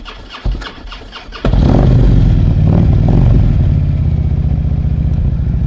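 A 2007 Harley-Davidson Road King Classic fires up after a brief crank, catching into a loud, deep, throaty idle that settles into a steady near rumble.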